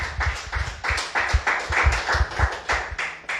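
A church congregation claps during a worship service, many hands striking in a steady, fairly rapid rhythm, close and moderately loud, with a faint voice underneath.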